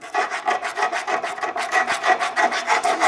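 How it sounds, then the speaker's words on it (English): A half moon file rasps against the metal bore of a Nissan Rogue front subframe bushing, making quick, rhythmic scraping strokes close up, about a dozen in a row, with no talking. "simply take a half moon file and go ahead and just kind of shave those down a little bit"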